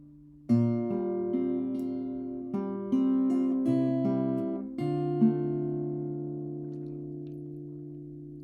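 Clean finger-picked acoustic guitar notes ring out one after another in a slow arpeggiated pattern, sustaining and overlapping, close and clear with no voices.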